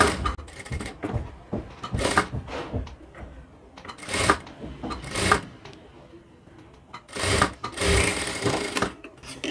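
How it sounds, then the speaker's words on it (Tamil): Sewing machine stitching the main cloth of a blouse, running in short whirring bursts with pauses between, close and fairly loud, with no talk. "I will stitch the main cloth."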